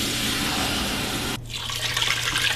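Tap water runs steadily into a measuring cup in a home kitchen, a broad continuous hiss that dips and changes pitch partway through as the cup fills.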